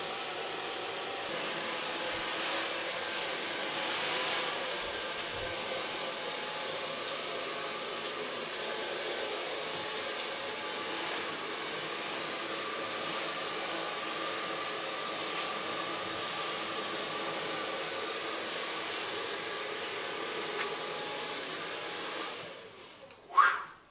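A hair dryer blows on layered hair with a soft fringe, a loud, steady whoosh that runs nearly unbroken before cutting off with a brief clunk at the end.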